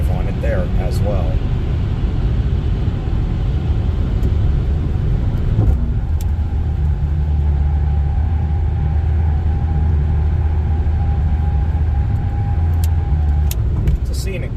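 Car cruising along snowy I-90 between Erie, Pennsylvania and the New York state line, a steady, loud road and engine rumble with tire hiss that continues without a break.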